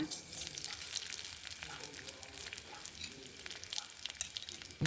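Mustard seeds splutter in hot oil, a steady crackle and sizzle with scattered sharp pops, close and fairly quiet.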